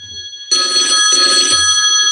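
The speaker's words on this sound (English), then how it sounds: "The phone's ringing." A telephone rings loudly and steadily with a bright, continuous electronic tone, briefly interrupted by low thumps, with no talking over it.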